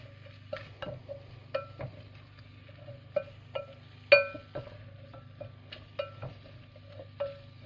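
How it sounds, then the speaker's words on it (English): A spoon stirs potatoes and carrots in a cooking pot, making sharp metallic clinks against the pot at an irregular pace over a soft, steady low hum. "Right, so that is the potatoes and the carrots in. Give that a stir, make sure everything gets coated."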